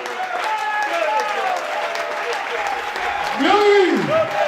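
A church congregation claps and cheers in a steady, dense wash of applause, with voices calling out on top and a loud rising shout near the end; speech mixes into the crowd noise throughout.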